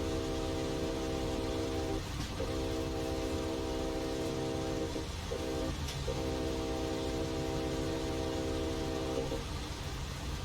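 A freight train runs on the Sherman Hill line in Train Simulator 2021, its horn sounding in long sustained blasts broken by short gaps over a constant low rumble of rolling cars, loud and close, with no voices.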